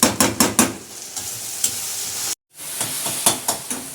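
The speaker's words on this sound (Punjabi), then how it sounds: "ਤੇ ਲਾ ਲਈ ਆਪਾਂ ਫਟਾਫਟ ਸਬਜ਼ੀਆਂ ਤੜਕਾ" Vegetables sizzle in a hot kadai for tempering while a spoon scrapes through them in quick rhythmic strokes, close and loud, with a brief drop to silence partway.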